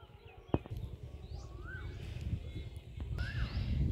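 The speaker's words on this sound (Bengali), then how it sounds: "কোকিলের ডাক শুনুন, ও কু করছে।" An Asian koel (cuckoo) calls twice from a distance beside a village pond in the Sundarbans, each rising-falling note faint above a steady low rumble of outdoor background noise.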